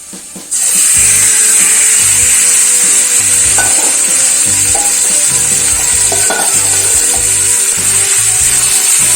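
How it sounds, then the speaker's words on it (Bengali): Marinated chicken hits a pan of well-fried onions for chicken bhuna, setting off a loud, steady sizzle that starts abruptly and continues throughout, with occasional scraping and stirring knocks. "এরপর এর মধ্যে আমি ম্যারিনেট করা চিকেনটা দিয়ে দিচ্ছি।"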